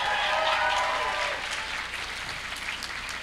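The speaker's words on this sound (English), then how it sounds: "a round of applause for the presentation category" Convention crowd at a costume contest applauds the presentation category, a sustained mid-level wash of clapping that tapers slightly while a faint tone sweeps through at the start.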